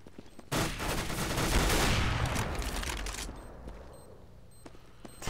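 In the video game Counter-Strike: Global Offensive, a loud burst of rapid gunfire erupts and fades into a lingering echo, followed by faint clicks.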